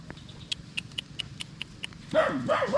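A quick run of faint clicks, then a dog breaks into a couple of short, close barks near the end.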